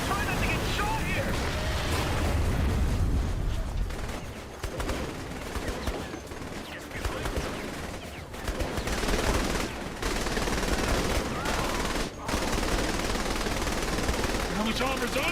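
Video game gunfire, machine guns rattling in dense, continuous bursts during an aerial firefight, with game characters shouting over the shooting.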